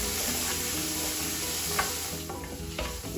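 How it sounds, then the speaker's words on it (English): Onions and celery sauté over a medium-low flame in a pan for red beans and rice, a steady soft sizzle with occasional scrapes and clicks of stirring. "Now I've been sauteing this for about 10 minutes."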